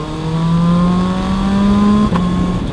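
QJ Motor SRK 921 motorcycle engine holding a loud, steady rev that climbs slightly in pitch, close by, with a brief dip near the end before settling at a lower tone.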